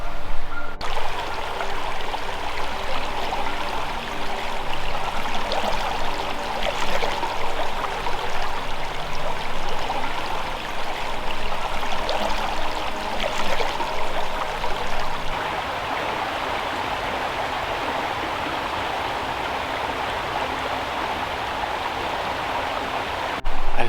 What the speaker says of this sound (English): I decided to take a minute and set up here along the brook for a second.